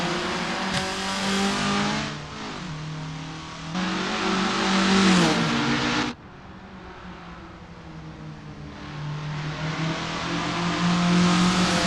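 Formula Ford race cars getting a race underway at Brands Hatch GP in the Assetto Corsa video game, several engines revving hard and rising through gears together, with a sharp gear-change cut midway and the pack droning on close by.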